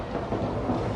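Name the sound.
thunder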